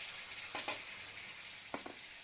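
A spice paste with chopped onion sautés in a hot pan, giving a steady close sizzle broken by a few brief scraping stirs.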